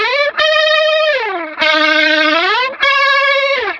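An electric guitar plays a single-string lead line through a Warm Audio Pedal76 compressor. Three long, loud, heavily sustained notes slide and bend in pitch, each ending in a brief break before the next.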